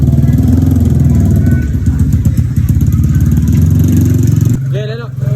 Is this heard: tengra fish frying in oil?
no